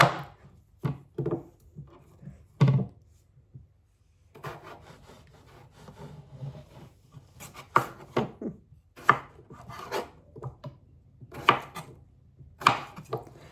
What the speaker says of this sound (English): I'm going to chop them in